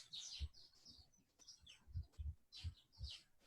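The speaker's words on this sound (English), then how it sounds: "So I hear Ted's birds." Small birds chirp and tweet in short, bright bursts repeating every half second or so, faint and somewhat distant in the background.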